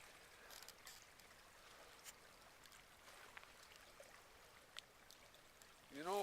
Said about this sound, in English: You know, Paul, a river gurgles?